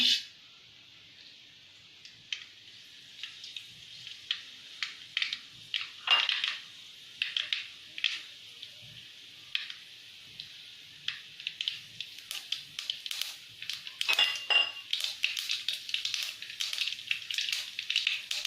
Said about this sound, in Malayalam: കടുക് നന്നായി പൊട്ടിയിട്ടുണ്ട്.